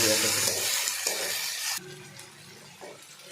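Tomatoes fry in a pan for a Nepali-style masala pomfret fish curry, a loud broadband sizzle that drops abruptly partway through to a quieter hiss with light stirring, with a bit of voice in the background.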